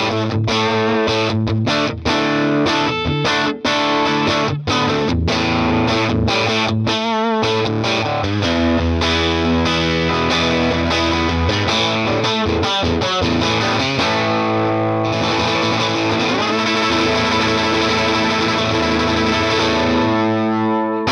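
Electric guitar with single coil pickups played through a Mojotone BlackOut Tweed amp, loud and overdriven with strummed chords, choppy stabs and sustained ringing notes throughout, no voices.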